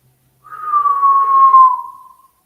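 A single sustained whistled tone, clear and fairly loud, held steady for under two seconds and gently sliding downward before fading out.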